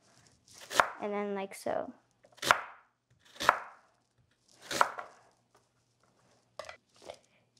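A knife chops through a peeled vegetable on a board for aloo gobi, a few crisp, separate cuts spaced out over several seconds, with a brief spoken remark near the start.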